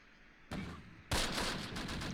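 Gunfire in the World War II strategy game Close Combat Last Stand Arnhem, two bursts of rattling shots, the second louder and continuing, over a steady low background.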